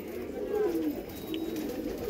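Racer pigeons coo softly nearby in a low, throaty, rolling murmur that holds steady over a light background hiss.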